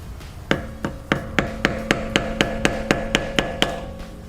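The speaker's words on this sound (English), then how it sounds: "So you need to get a screwdriver, okay, hit it a couple of times to make sure that that you straighten that piece." A screwdriver is struck to straighten a flattened axle nut during a front wheel bearing replacement. Roughly a dozen sharp, evenly spaced metallic taps ring out close by, each with a brief ringing tone.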